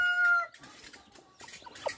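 A Rhode Island chicken on a small farm clucks in a few brief, close bursts, with a higher tonal call at the start and quieter scattered clucks and yard noise afterward.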